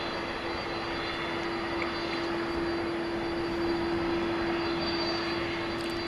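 A passenger airliner passes at night at DFW Airport, a steady loud engine roar with a droning tonal hum that holds throughout without any talking.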